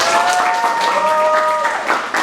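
A classroom of students claps on the teacher's cue, a dense burst of applause filling the whole clip, with voices and a few tonal squeals mixed in.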